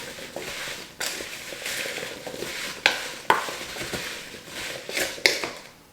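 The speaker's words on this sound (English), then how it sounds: "we're going to stir that up" Sliced apples tossed with lemon juice are stirred in a bowl, giving soft wet scraping with a few sharp clinks of the utensil against the dish.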